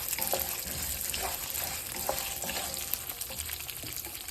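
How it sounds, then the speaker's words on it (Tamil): Seven or eight dried red chillies crackle as they fry in oil until golden for pulihora, a soft, continuous sizzle with light stirring taps and scrapes, close but fairly quiet. "இது ஒரு 7-8 மிளகா வெத்தல், அதையும் போட்டு நல்லா பொன்னிறமாக வறுத்துக்கணும்."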